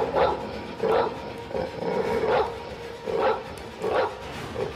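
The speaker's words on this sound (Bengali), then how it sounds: "কুকুরটা ডাকছে" A dog barks repeatedly, fairly close and loud, giving about six sharp yelping barks at an uneven but steady pace with short gaps between them.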